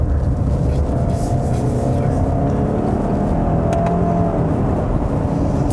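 A 2020 Subaru Outback XT with its turbocharged engine pulls hard in second gear along a curvy road, heard from inside the cabin as a steady, loud, continuous engine drone and road roar with no break for the whole stretch.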